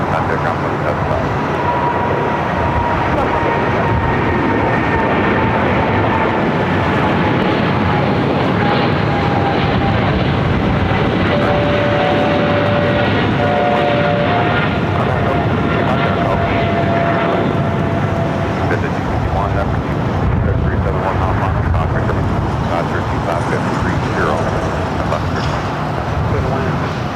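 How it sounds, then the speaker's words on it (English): A British Airways airliner at Los Angeles airport rumbles loudly and steadily with a sustained engine roar that slowly shifts in pitch, while someone talks over it. "This is British Airways flight 283 coming up from London Heathrow"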